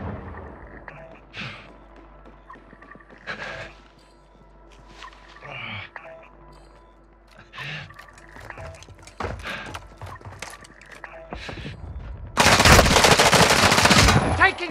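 Automatic gunfire rattles through a Call of Duty Warzone 2 match on Ashika Island in Resurgence mode, with scattered bursts of shots and a loud, dense barrage near the end.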